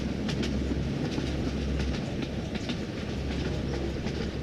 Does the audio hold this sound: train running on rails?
yes